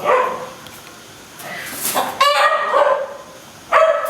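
Chickens in a breeding pen cluck nearby in short bursts amid rustling background noise, with a couple of louder squawks.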